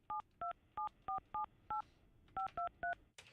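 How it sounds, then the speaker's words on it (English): Touch-tone keypad dialing a landline number: nine short DTMF beeps in a quick, slightly uneven sequence with a brief pause midway, clear and close, ending with a faint click. "But now you're dialing a landline."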